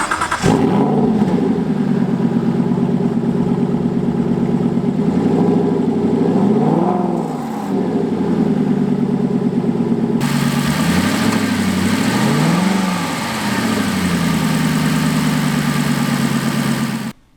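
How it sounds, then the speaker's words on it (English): Aston Martin V8 Vantage GT with sport exhaust holding a deep, steady idle up close, broken by a few swelling revs that rise and fall back, loud throughout and ending abruptly. "Oh man, I could listen to the sound of that engine all day. It's got a sport exhaust. It sounds spectacular."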